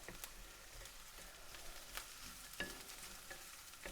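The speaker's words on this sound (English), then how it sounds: "we're just cooking our onions here" Onions frying in a pan make a faint, steady sizzle with a few soft clicks and stirring knocks, quiet and close, with no voices.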